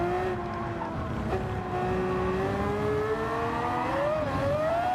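A Gran Turismo 7 F3500-A formula car, an open-wheel racer modelled on an old F1 car, accelerates with a rising engine whine. The sound is loud and steady, and its pitch climbs and dips as the car changes gear.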